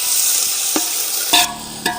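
Onions fry in melted mutton fat in a pot for a village-style goat mutton biryani, with a continuous close sizzle and a few sharp stirring clatters near the end.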